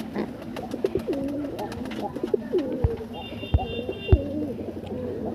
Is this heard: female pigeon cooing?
yes